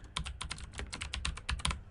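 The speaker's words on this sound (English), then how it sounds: "I'm just typing this." Rapid, close-up typing on a computer keyboard, a steady clatter of crisp keystrokes at an even pace with no talking.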